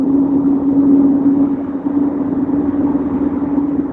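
Steady, close car rumble with a constant low engine drone, loud and unbroken throughout, with no voices over it.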